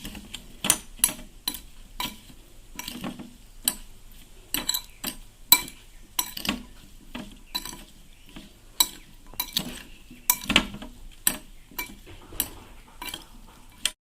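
Lemon pickle made from three lemons with ginger and chilli being stirred and mixed, a steady run of sharp utensil clinks and scrapes against the container in an irregular rhythm, close and fairly quiet with no talking.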